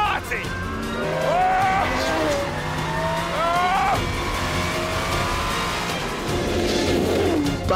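A Pagani Zonda R race car at speed, engine revving and tires squealing in oversteer: loud engine howl with rising and falling pitch and repeated tire squeals, someone talking excitedly over it.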